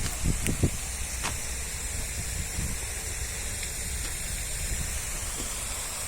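Water from a waterfall in Emirgan Grove, Istanbul, makes a constant faint hiss and rush, with a few soft knocks near the start.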